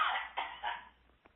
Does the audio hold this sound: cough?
yes